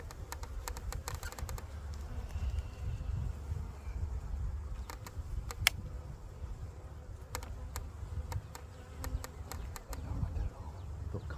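A package of honeybees being installed into a hive box, with a continuous low buzzing from the swarm close by, broken by scattered clicks and taps from handling the box and frames.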